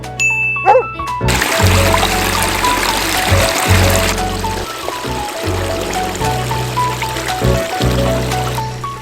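Water trickles steadily into a small garden ecosystem pond, three by two metres with a one-metre stream, in Devon, UK. It makes a continuous close splashing wash, with faint tinkling tones over it.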